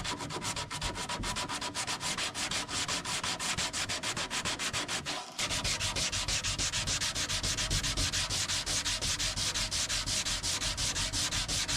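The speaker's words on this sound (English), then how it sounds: "I'm now just going to give that a quick sand down with 120 grit sandpaper so it makes it smoother." Hand sanding of a 1910s Victorian cherry wood dresser with 120 grit sandpaper, a steady rhythmic scratchy rubbing of fast back-and-forth strokes, close and loud, with one brief pause midway.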